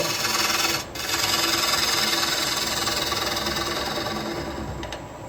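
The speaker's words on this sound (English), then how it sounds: "I'll use a skew to get in this little bit right there" A skew chisel cuts wood on a lathe, working into a small detail near the chuck jaws, giving a steady, continuous rasping hiss with a brief break about a second in.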